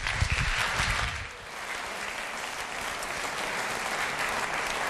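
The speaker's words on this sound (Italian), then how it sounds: "un applauso anche..." A crowd at a Christmas sports gala applauds for about a second and a half of loud clapping, then the applause thins into a steadier, softer patter that carries on to the end.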